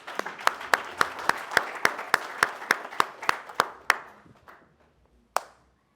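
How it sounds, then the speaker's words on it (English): Slow, sparse hand claps at a health seminar: about fifteen sharp, evenly spaced claps over four seconds. They grow fainter, then one last clap lands alone after a pause, in a quiet room. "Big round of applause for my Johnny."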